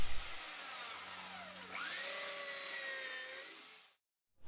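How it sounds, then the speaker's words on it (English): Power drill boring 5mm holes into a balustrade post: a close, loud whine that dips and rises in pitch as the bit bites into the wood, then stops abruptly into silence. "drill 5mm drill holes to a depth of 55mm."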